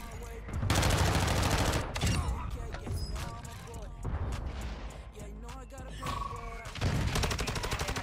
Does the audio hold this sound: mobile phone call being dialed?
no